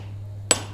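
A single sharp hammer strike rings out on a forge anvil, a bright metallic clang that decays quickly over a steady low hum, close by and fairly loud.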